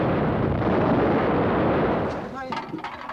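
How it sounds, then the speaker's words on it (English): American-built heavy artillery fires in wartime Iran, a heavy rumbling blast that rolls on for about two seconds before a voice comes in over it. "American-built heavy artillery defending the Islamic Revolution."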